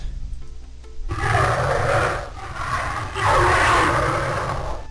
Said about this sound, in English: The sign says, "Push button to hear Rex speak.